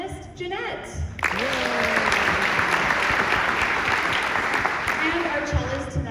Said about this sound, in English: And another round of applause for our violinist, Jeanette.